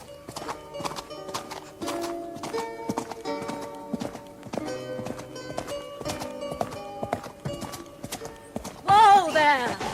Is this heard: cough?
no